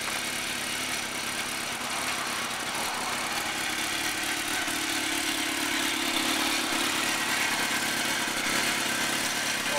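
A 2004 Suzuki GSX-R 1000 motorcycle idles steadily, its engine giving a continuous, even rumble from start to finish with no talking.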